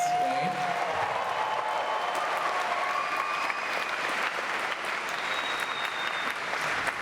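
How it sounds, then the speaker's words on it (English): A convention panel audience gives sustained, dense applause that fills the hall for several seconds, with a voice briefly heard over it. "let's please give one more giant round of applause for our guests today"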